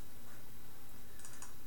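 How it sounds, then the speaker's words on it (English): Typing on a computer keyboard while entering a name during virtual machine setup, a quiet, steady patter of key clicks with a few sharper taps near the end, heard alone without talk. "And then I'm going to type in my name."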